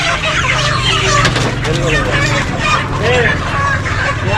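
Many broiler chickens cluck and squawk together in a noisy crowded space during delivery to shops in Pakistan, with people talking and machinery humming underneath.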